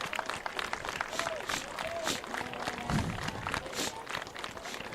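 Crowd at a high school football playoff game applauding as an injured player is wheeled off the field, scattered clapping from fans in the stands with some crowd noise.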